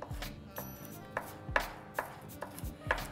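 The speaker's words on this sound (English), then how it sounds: "So with the onions, I like to do in little chunks also. So I dice it up a little bit." Knife dicing an onion into chunks on a cutting board for guacamole, a series of crisp, close chops in an uneven rhythm, about ten strikes, with no talking.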